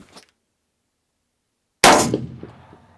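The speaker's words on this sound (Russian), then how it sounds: "сделаем несколько выстрелов." A single loud rifle shot fired with a hunting cartridge at a long-range shooting session, a sharp close blast with a short ringing decay after near silence and a faint earlier tap.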